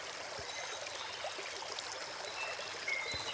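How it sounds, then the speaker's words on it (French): A small stream murmurs over rocks outdoors, a faint, steady wash of trickling water with a few soft splashes and no voices. "le murmure d'un ruisseau chuchotant contre les roches"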